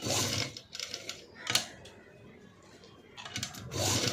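A sewing machine stitches a double stitch on a blouse, giving quiet mechanical whirring bursts at the start and end with softer ticking between, close by and with no talk.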